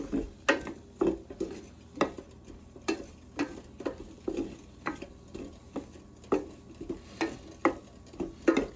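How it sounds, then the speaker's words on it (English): Shallots and garlic go into a pan for chicken marsala, giving soft sizzling with repeated stirring and utensil taps against the pan at a steady rhythm, heard close and moderately quiet. "we're going to add our shallots. And we're going to add our garlic."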